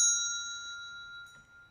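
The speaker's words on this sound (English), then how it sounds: "Clearing the energy with my Tibetan bell." A Tibetan bell rings out once with a bright, sustained metallic tone, its stacked overtones slowly decaying while it rings alone, close and clear.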